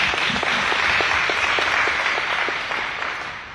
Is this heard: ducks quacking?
no